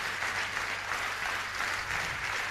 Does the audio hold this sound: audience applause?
yes